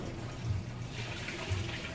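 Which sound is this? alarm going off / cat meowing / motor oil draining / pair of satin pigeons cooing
motor oil draining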